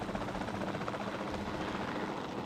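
Helicopter rotor and engine noise in the video game Jurassic World Evolution 2, a steady loud broadband whir that holds evenly throughout with no talk over it.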